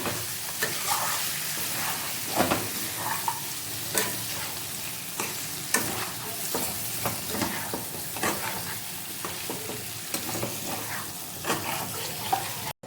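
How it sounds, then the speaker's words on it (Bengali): Chicken biryani masala is stirred in a pan over a medium gas flame, giving a constant frying sizzle broken by repeated scraping strokes of the spoon, close and fairly loud with no voices. "আবার সব কিছুকে ভালো করে মিশিয়ে নেব। গ্যাসের আঁচটা মিডিয়াম করে দিচ্ছি।"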